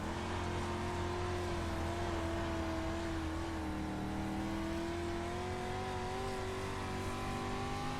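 A Street Stock dirt car's engine in iRacing at the Oswego dirt track, a continuous close drone with harmonics that drift gently up and down as the car is driven.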